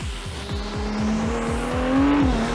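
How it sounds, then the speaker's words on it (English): A Ferrari 296 GTB (2021) engine drones steadily with a rising, throaty pitch and rhythmic pulsing, growing slightly louder as it revs, with no voices. "this gives this typical Ferrari sound"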